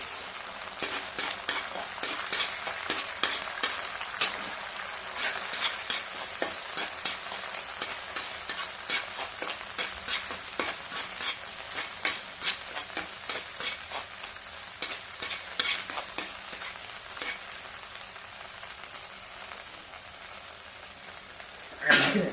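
An egg fries in a pan, crackling and popping in a dense, even sizzle that stays fairly quiet, with scattered sharper spits and a louder clatter at the end.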